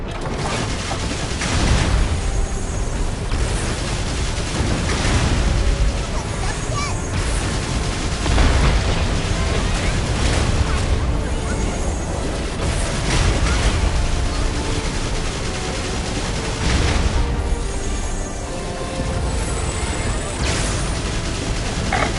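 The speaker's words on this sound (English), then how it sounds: "That thing's slugging our cannon fire like it's nothing." Cannon fire in a video game booms repeatedly in dense, loud bursts amid continuous battle noise and mechanical clatter, with voices speaking over the action.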